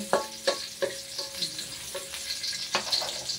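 Ginger fries and sizzles in a pan for chicken tinola, a steady crackling hiss with several sharp stirring clinks against the pan, close and continuous.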